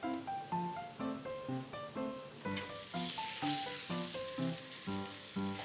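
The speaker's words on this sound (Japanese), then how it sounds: "しっとりしてきたらちょっとこのように鍋肌に押し付けてちょっとずつ焼き目つけて" Pieces of Spanish mackerel (sawara) and eringi mushrooms sizzle in butter over low heat as they're pressed against the pot wall, a steady close frying crackle with soft stirring clinks and a brighter hiss midway.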